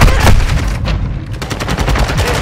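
Rapid automatic gunfire in Call of Duty MW2, very loud and close, with bursts of shots in a steady rhythm running the whole time and no speech.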